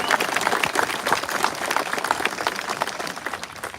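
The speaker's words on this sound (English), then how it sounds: "Let's give them one more round of applause." Audience applause at a Vietnamese community event in Kentucky honoring soldiers and military families, a dense, steady wash of many hands clapping close by for the whole stretch, with no talk over it.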